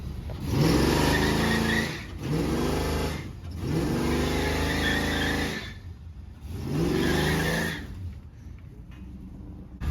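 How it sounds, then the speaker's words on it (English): A 1999 LS1 Camaro with a Chupacabra cam revs hard for a burnout, loud and close, in four long surging pulls of the engine with brief dips between, then settles to a rough idle. "About to find out if the Chupacabra cam will do a burnout."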